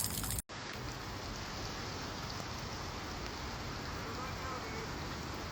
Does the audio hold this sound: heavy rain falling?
yes